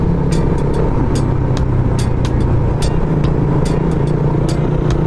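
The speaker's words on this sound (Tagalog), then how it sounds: "Yan o, ang lalaking sasakyan pa." Heavy road traffic at night on a rough, pothole-filled highway near Monumento, with a steady engine rumble and a handful of vehicles sweeping past in quick bursts, close and loud throughout.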